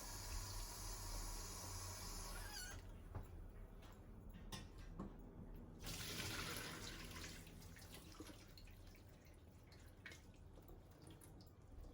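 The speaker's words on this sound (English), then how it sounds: "I'm rinsing them for the salt, to take the excess salt out, so I'm using the really hot water" Really hot tap water runs into a kitchen sink while karela is rinsed to wash out salt, a steady faint splashing stream with brief drips and clatters, no talking.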